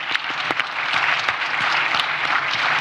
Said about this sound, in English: A round of applause for Zambia